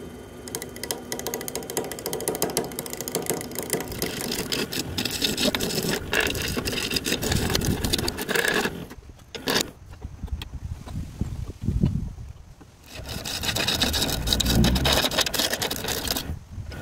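A wood lathe spins a mallet blank while a skew chisel cuts it, producing a loud, continuous rattling hum with rough scraping texture, dropping briefly around the middle before the cutting resumes at full volume.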